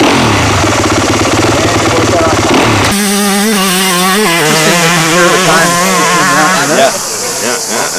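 A stock 2022 Fantic 250 F motocross bike engine runs loud and close, idling with a steady buzz before revving up into a rising, wavering whine.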